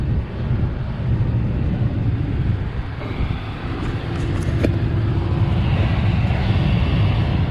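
A replacement blower motor in a 2017 Dodge Ram cab runs with a steady, broadband airflow rush and low hum, continuous and fairly loud throughout, slightly swelling in the second half.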